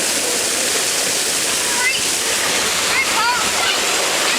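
A waterfall at a Jamaican vacation spot pours a heavy, steady roar of water that fills the whole clip, loud and close, with faint splashing and distant voices under the rush.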